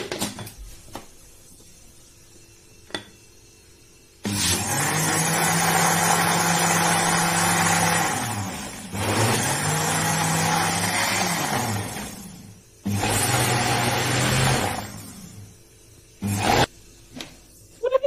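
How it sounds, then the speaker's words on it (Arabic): Electric blender mixing chocolate cake ingredients with cocoa, running in three loud bursts of steady whirring separated by short pauses, with small clicks and handling sounds between them. "في الخلاط مع بعض كده."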